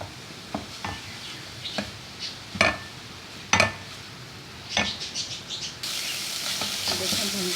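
Spiced minced meat (qeema) with garam masala and chaat masala frying in a pan, with sharp spoon scrapes and clinks against the metal as it is stirred. A light sizzle builds into a steady, louder hiss near the end.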